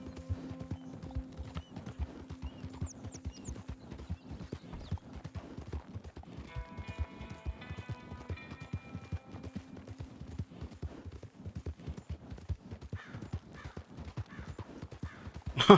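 Steady clip-clop of a horse's hooves in Red Dead Redemption Online, the even rhythmic footfalls continuing throughout with occasional faint whinnies and game ambience around them.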